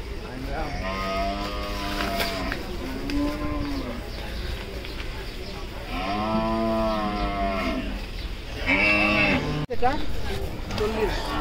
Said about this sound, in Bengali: তো একটা লাল গরু আসতেছে